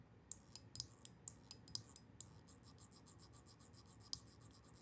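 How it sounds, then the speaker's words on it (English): Phase 1.5 mechanical fidget toy with a ball rolling through small detents, giving sharp, close clicks at the start and end with a rapid, shallow zipper-like run of soft ticks between. "The only real clicks you get are at the beginning and end."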